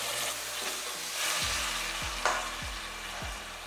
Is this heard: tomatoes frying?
yes